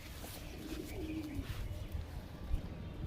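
Pigeons coo softly in a crowded loft of red-tailed and black-tailed birds, a low murmuring call rising briefly amid steady background rustle and ambient noise.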